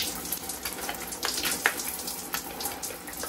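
Tap water splashes steadily over a lotion pump nozzle being rinsed, a close, continuous hissing spray with a few brief louder spurts. No one speaks.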